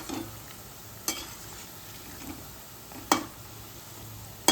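Medu vada deep-fry in oil until golden, giving a soft, even bubbling hiss marked by a few sharp metallic clinks of a utensil against the pan.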